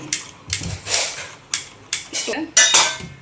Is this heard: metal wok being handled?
yes